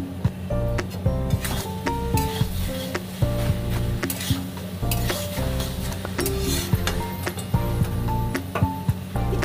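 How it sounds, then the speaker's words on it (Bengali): Vegetarian cabbage curry is stirred in a cooking pan, with a spatula scraping and clinking against the metal, soft sizzling and a few sharp utensil knocks, all steady over tonal background music. "দিয়ে ভালো করে নাড়াচাড়া করে নেব"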